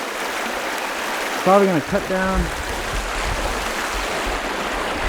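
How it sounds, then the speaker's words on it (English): A creek runs through a wooded clearing, a loud steady rush of flowing water filling the whole stretch while someone talks briefly over it. "Look at the river, it's so beautiful."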